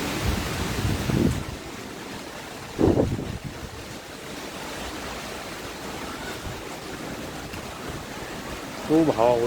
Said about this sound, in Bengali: খুব হাওয়া বইছে খুব।